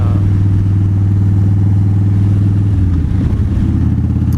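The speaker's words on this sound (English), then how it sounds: "I put Vans and Hines big shots on it because I wanted, you know, a little bit more beefy sound" Loud, deep idling Harley-Davidson motorcycle engine with Vance & Hines Big Shots aftermarket exhaust, a throaty rumble close by, briefly blipping the throttle near the end.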